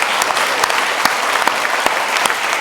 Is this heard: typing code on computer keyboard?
no